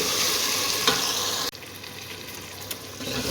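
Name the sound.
spinach added to pan, cooking with potatoes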